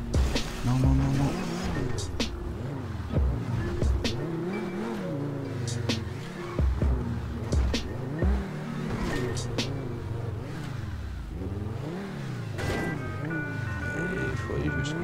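Car engine revving and roaring in GTA 5 on PC during a parkour map, loud and continuous with shifting pitch and a few sharp squeals, while a French-speaking player talks over it.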